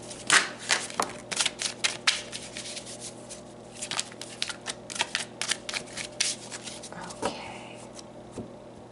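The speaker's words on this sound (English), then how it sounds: "let's pull some more cards" A deck of tarot cards is shuffled up close, with quick papery riffles and slaps repeating in a busy rhythm, alone with no talk.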